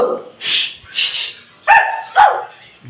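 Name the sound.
dogs barking in video game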